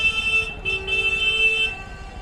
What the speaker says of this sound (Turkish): Kendimizi trafikten kurtarmaya çalışıyoruz.